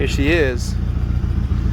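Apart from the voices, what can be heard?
Nissan S13 240SX with DNA Motoring exhaust idling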